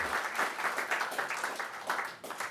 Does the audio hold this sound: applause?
yes